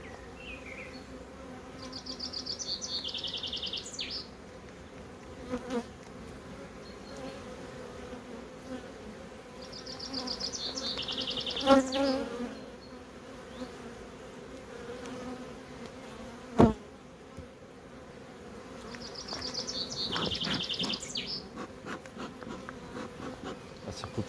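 Honeybees buzz steadily around an opened, crowded hive during an inspection, with a dense hum and a few louder bees passing close to the microphone.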